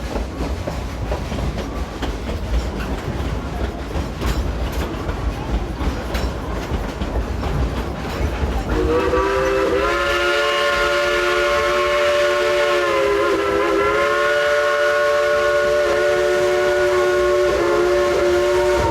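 Dollywood steam train rolling along its rails, a continuous rumble and clatter for the first half, then a long, loud, multi-tone steam whistle blast sustained near the end.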